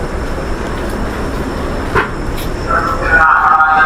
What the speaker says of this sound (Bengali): আর সেই সাথে আমাদের ট্রেন কিন্তু পৌঁছলো বর্ধমান জংশনে